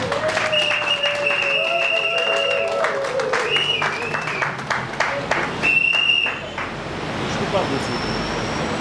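A worship audience cheers and claps for Jesus in a broad wash of applause under a sung and spoken voice with sustained tones, swelling and then fading into steady crowd noise.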